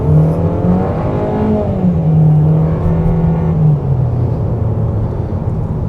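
A 2025 VW Taos SE compact SUV accelerating hard from a stop on a side street, its engine note climbing steadily and loud throughout, with no talking.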